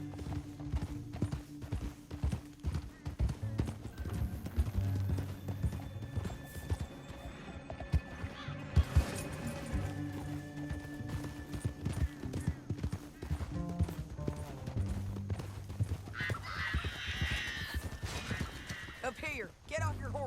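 Steady clip-clop of horse hooves with an occasional whinny, mixed with other Red Dead Redemption game sounds and some talking.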